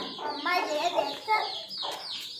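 Chickens cluck and chatter nearby in a household setting, a moderate, irregular run of soft clucks and squawks that fills the stretch with no voices over it.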